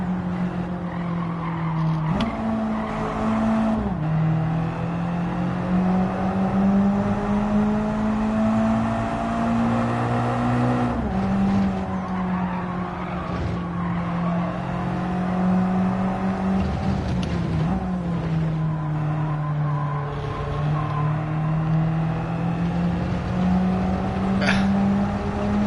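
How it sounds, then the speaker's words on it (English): A Mazda Spirit Racing 12R race car in Gran Turismo 7 during a sport time trial, its engine droning loud and steady throughout, rising and dipping in pitch with several brief gear-shift drops and re-accelerations. "Very torquey engine"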